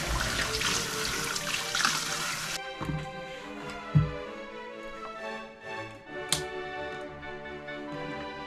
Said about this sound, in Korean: 나중에 아이가 태어나면 설거지가 더 많아질 테니 그때를 위해서 열심히 설거지 연습을 하기로